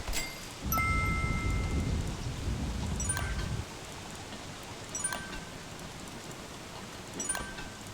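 Steady rainfall with a deep rumble of thunder in the survival video game Don't Starve, the rumble swelling early and then fading under continued rain, with faint chimes and ticks.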